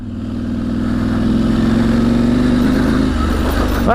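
A KTM 790 Adventure motorcycle engine holds a steady, loud drone on the Claerwen Reservoir trail, pitch rising slightly as it revs, with a brief rustle or scrape right at the end.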